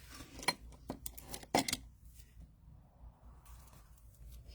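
Scissors cut a small half-moon shape out of paper for a junk journal pocket: a few crisp, close snips in the first two seconds, then soft paper rustling and quiet.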